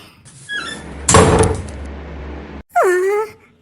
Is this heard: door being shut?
yes